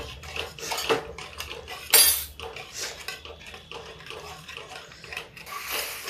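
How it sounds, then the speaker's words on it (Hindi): A spoon stirs ridge gourd curry with yogurt in a pan, making repeated clinking and scraping strokes against the metal in an uneven rhythm, with one sharper clatter partway through. "अब इसको हम चलाते रहेंगे जिससे फटने ना पाए।"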